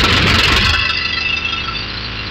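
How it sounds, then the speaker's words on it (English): A de Havilland Tiger Moth biplane's engine idles in FSX flight simulator, a steady rough drone with a harsh, buzzy edge, close and loud with no talking. "I'm going to crank the engine here for you"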